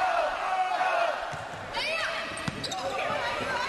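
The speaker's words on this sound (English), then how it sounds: "Good crowd from both schools here." Crowd of fans from two high schools at a state championship volleyball final in a gym, murmuring and cheering with a sharp ball strike and squeaks, a commentator talking over it.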